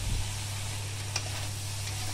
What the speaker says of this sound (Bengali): মশলাটা এখানে সুন্দরভাবে কষানো হয়ে গেছে, এখন অ্যাড করে দেব কেটে রাখা আলু